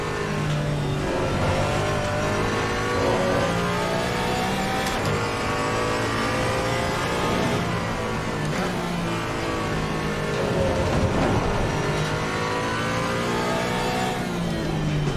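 A Porsche GT3 race car engine in Assetto Corsa Competizione at Brands Hatch, revving loud and close through repeated upshifts and downshifts around a lap, with steady engine drone and rising and falling pitch sweeps and no talk.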